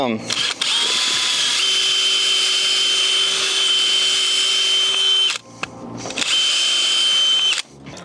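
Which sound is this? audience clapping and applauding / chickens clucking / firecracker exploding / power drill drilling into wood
power drill drilling into wood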